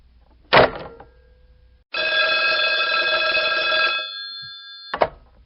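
An old-fashioned telephone bell rings in one sustained burst of about two seconds. Sharp clicks or knocks come just before and after it, and no one speaks.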